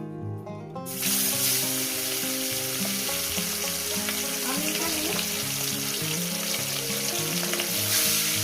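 Salted katla fish pieces fry two at a time in hot oil with a continuous bright sizzle and spatter, under background music, after a brief voice at the start.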